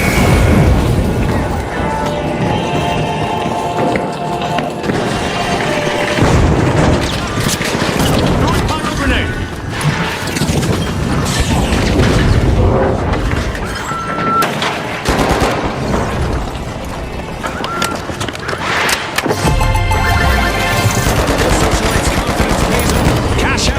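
Pyro grenade blast and rapid gunfire in a chaotic arena shooter, bursts of shots and booms layered over continuous game music and announcer voices throughout.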